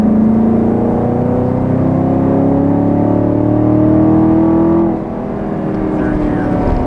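A 2020 Chevrolet Camaro 2SS with a naturally aspirated GM V8 and 10-speed automatic accelerates, its engine note rising steadily in pitch before easing off at a shift, loud and continuous from inside the car.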